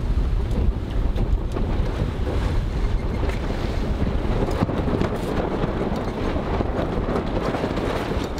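A sailboat coming about under sail off the coast of Brazil, with steady loud wind and rushing water noise filling the whole stretch without a break.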